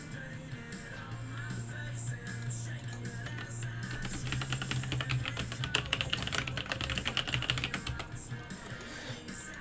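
Typing on a computer keyboard comes in quick, clattering runs of keystrokes. It is most intense in the middle stretch and set against a steady low room hum.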